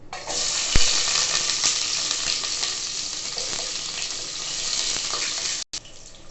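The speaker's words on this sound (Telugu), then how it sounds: "ఫస్ట్ ఘీని వేసుకుందాం. ఫస్ట్ ఆనియన్స్ని వేసుకుందాం." Onions frying in hot ghee for khichdi, a steady loud sizzle that runs unbroken for several seconds with faint stirring scrapes, briefly cut off near the end, with no talk.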